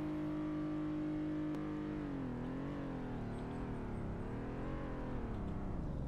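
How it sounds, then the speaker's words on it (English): Car engine in a Roblox driving game with an automatic 8-speed transmission, revving and dropping through rev-matched downshifts, a steady, fairly faint drone that rises and falls in pitch, with no voices. "did you hear those rev match downshifts in my automatic 8-speed BKM transmission?"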